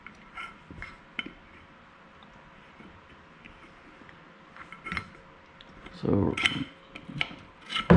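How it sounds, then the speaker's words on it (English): Metallic scraping and clinks as a cotter pin is worked out of a furniture leg, a few light taps early, then a louder rattling burst near the end. "So we pop the cotter pin out."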